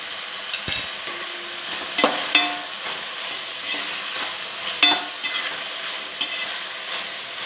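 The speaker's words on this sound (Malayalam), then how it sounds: "ഇതൊന്ന് ചെറുതായിട്ട് വഴന്ന് വരട്ടെ ഒരു ചെറിയൊരു ബ്രൗൺ കളറാകണം" Ingredients for a Kerala-style chicken roast frying in a pan until lightly browned, a steady close sizzle broken by several spoon scrapes and metallic clinks against the pan.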